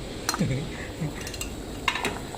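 A metal lid set down onto a cooking pot of Thai chicken soup, giving a few brief clinks and a clatter of metal on metal, close by and moderately loud.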